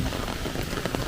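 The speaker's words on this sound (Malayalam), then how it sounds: "നല്ല മഴ." Heavy rain pours down steadily at a home in Kerala during a thunderstorm, a dense, continuous hiss that stays even and fairly loud throughout with no voices.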